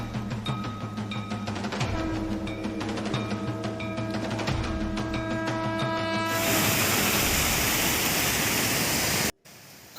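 A small mountain waterfall on the Shrikhand Mahadev trek in Himachal roars in as a loud, dense rush after several seconds of droning tones, then cuts off abruptly near the end.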